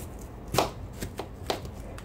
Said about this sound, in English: For supper tonight, I'm having roasted potatoes, fish, and fried onions, and that's why I'm cutting this up right now.